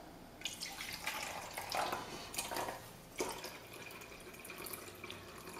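Tap water poured into a cup while testing a diaper's water retention, a close, steady trickle with drips and small splashes, rising and falling in bursts.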